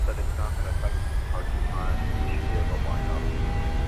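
Jet engines of a PMDG 737-800 in Microsoft Flight Simulator spooling to takeoff thrust, a steady, loud, broadband roar with a deep low rumble that holds constant throughout.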